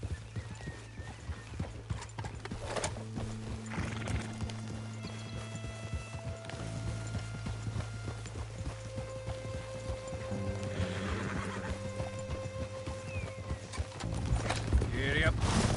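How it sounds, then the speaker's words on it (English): Horse hooves clip-clop steadily beneath a rider in the Red Dead Redemption 2 video game, with a whinny partway through, over a low ambient drone and some game talk. "Mount up then, Morgan."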